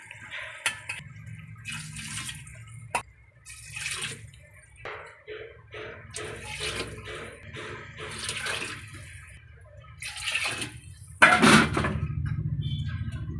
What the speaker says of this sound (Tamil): நம்ம 6 டம்ளர் தண்ணி ஊற்றணும்